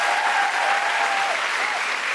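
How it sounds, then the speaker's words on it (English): Dense, sustained audience applause fills the Sydney Opera House during a live comedy podcast recording, loud and even from start to finish. "A big round of applause for everyone at the Sydney Opera House."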